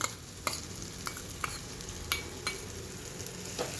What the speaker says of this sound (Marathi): आणि याला असं मिक्स करून घ्यायचं.